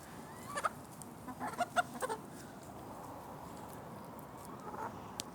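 A rooster and chickens cluck in short scattered bursts, a few closer calls standing out over a quiet, faintly noisy yard.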